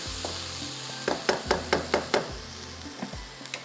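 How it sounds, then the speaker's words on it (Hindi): Crumbled mixture with fresh coriander being lightly roasted and stirred in a pan for millet (bajra) laddu, a quiet sizzle under a quick run of six or so rhythmic scraping strokes, then a few softer stirs. "हल्का सा बस इसको आपने इस तरह से भूनना है।"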